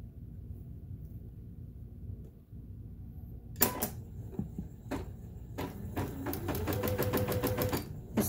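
A Janome Memory Craft 8000 sewing machine sits near-silent at first, then gives a few sharp clicks before breaking into a quick, rhythmic burst of stitching over a rising motor whine.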